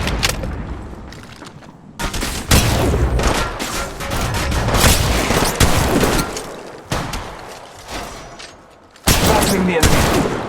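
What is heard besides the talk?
shotgun fire in Apex Legends Mobile video game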